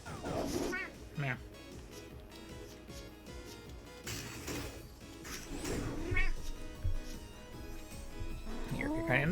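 A cat meows several times, the calls rising over ongoing background game sound and music, with a voice speaking nearby.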